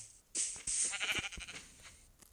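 Minecraft sheep bleating, a couple of short wavering baa calls close by, faint and quiet in the game with small clicks around them.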